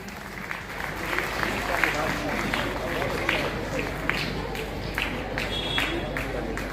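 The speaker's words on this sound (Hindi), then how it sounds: "तालियां बजनी चाहिए।" An audience at a school annual function applauds with sustained, dense clapping that holds steady throughout, a crowd sound with a hint of voices mixed in.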